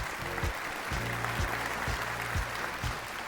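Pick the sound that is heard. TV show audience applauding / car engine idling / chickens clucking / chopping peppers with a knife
TV show audience applauding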